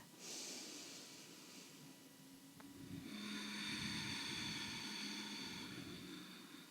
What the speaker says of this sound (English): Take one more deep breath